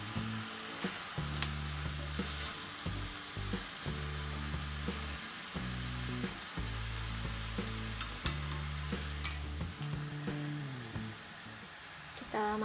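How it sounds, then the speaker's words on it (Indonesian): Carrots fry and get stirred in a pan while cooking a Japanese dish, a steady soft sizzle with scattered crackles and occasional stirring scrapes, fairly quiet, over a low pulsing background hum. "Terus tinggal kita tambahin wortel, aduk sebentar, baru kita tambahin kentangnya."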